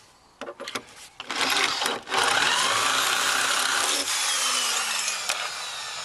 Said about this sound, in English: We'll set a couple more bolts in just to hold everything in place.